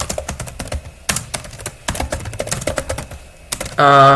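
Rapid, close keystrokes on a computer keyboard while writing code for a new programming language, irregular bursts of clicks with short pauses, ending in a brief tonal sound.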